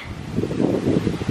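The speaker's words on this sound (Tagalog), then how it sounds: "that means it's windy" Wind gusts buffet the microphone outdoors in a steady low rumble, rising and falling over a second or so, with no voices.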